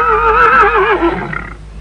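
A horse, a hard-worked cart or riding animal, gives a loud, close whinny that wavers in pitch for about a second and a half before trailing off, heard alone without speech.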